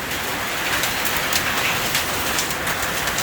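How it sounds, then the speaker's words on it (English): Hail falling outdoors on a Ford OBS 7.3 Powerstroke dually truck, a dense steady patter of pellets striking surfaces, loud and close, with no talk. "Now it's fucking hailing on it."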